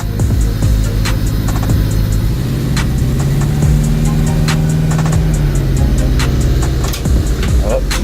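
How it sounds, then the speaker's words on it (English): A Honda hatchback engine revs hard and loud close by as the car starts to move, its pitch sliding up and down through repeated throttle blips, with sharp clicks and knocks scattered over the roar. "Let's see if we can move the car."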